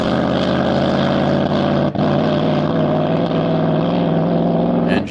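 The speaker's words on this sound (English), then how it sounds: "Engine misfiring a little bit." A land speed race car's engine misfires at an SCTA El Mirage dry lake race, droning loud and steady close by with a brief stumble near the middle, and no one talking.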